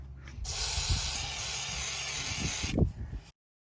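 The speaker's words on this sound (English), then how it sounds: "We can even put some WD-40 on that." Close, loud aerosol spray of WD-40 onto a brake part on a second-generation Nissan Frontier, one steady hissing burst of about two and a half seconds with a few faint knocks and handling sounds beneath it.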